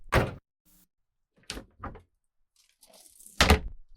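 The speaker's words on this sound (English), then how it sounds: "opened the door like a gentleman, and helped her hop inside" A pickup truck door is handled nearby, giving a sharp thunk, a pause, a quicker rattling clunk and then a loud final slam, each burst separated by quiet.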